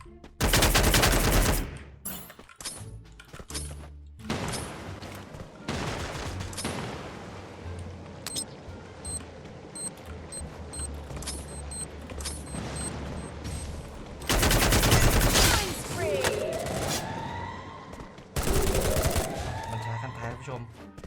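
Automatic weapon fire in the Free Fire video game comes in several loud volleys and rapid rattling bursts, with a voice talking between and under the shots.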